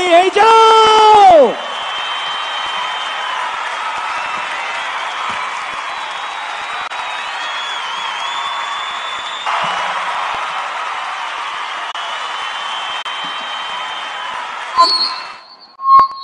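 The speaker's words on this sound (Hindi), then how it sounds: "अनुरोध गोटे जोरदार करताली आ हुळाहुळी हे जाओ" At a BJD election rally in Rairangpur for Naveen Patnaik, a large crowd breaks into loud, sustained applause mixed with ululating cheers, preceded by a brief shrill whistle-like tone.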